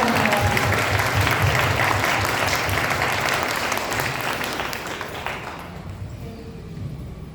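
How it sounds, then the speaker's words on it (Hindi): A church congregation at a Hindi prayer service claps loudly, dense sustained applause from many hands that fills the room and then tapers off toward the end. "प्रभु यीशु को जोर से ताली बजाएं।"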